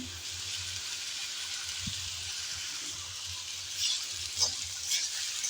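Pointed gourd fries in a pan with turmeric and salt, giving a steady close-up sizzle with occasional scraping and stirring clicks, and no one speaking over it.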